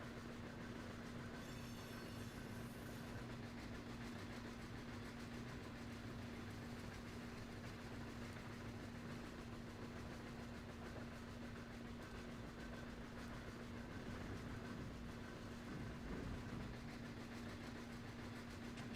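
Steady low rumble of a CSX freight train running in the Run 8 train simulator game, a continuous engine drone with a steady hum and faint wheel noise throughout.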